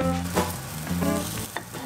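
Pancakes made from soy milk pulp, flour, egg, green onion and soy sauce fry in a pan, giving a steady close sizzle broken by a few brief scraping or stirring touches.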